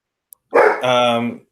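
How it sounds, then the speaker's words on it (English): A dog lets out a single short bark-like yelp, close and fairly loud, right after a faint click, with voices in the clip. "Oh, good Lord, dog, shut up."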